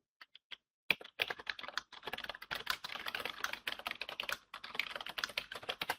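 Rapid keystrokes on a computer keyboard while entering slide text in PowerPoint, with irregular bursts of close, crisp clicks and short pauses, heard alone without speech.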